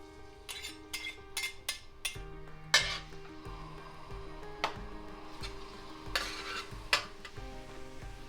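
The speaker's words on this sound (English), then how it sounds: "First, saute the garlic." Garlic sautés in hot vegetable oil in a wok, giving a steady sizzle broken by sharp metallic clinks and scrapes of a utensil stirring against the pan.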